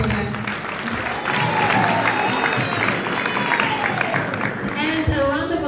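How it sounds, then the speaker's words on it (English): A crowd at a book launch claps steadily, with scattered cheers and voices mixed in, sustained for several seconds before fading. "Please, a round of applause for her."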